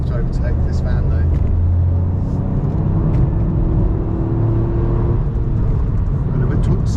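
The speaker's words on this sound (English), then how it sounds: "I'm going to have to overtake this van though." A Toyota GR Yaris engine pulling hard to overtake a van, a loud, close, rumbling drone with road noise that rises steadily, while a person talks over it.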